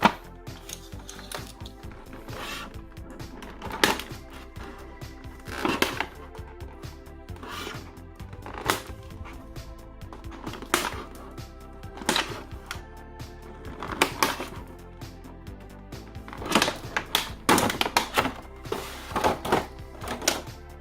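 Cutting and snipping plastic ties and packaging to free a Transformers Siege Shockwave toy, a run of close, sharp clicks, snaps and rustles at irregular intervals with no talking.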